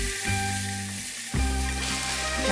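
Fish cakes stir-frying in a pan with sesame oil and mirin, a loud steady sizzle with a sudden surge of crackling partway through, close up, with a constant electrical hum underneath and no talking.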